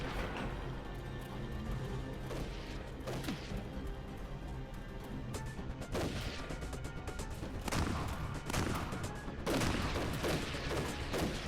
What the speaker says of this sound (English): And of course, Sarge is hip firing the shotgun into the wall.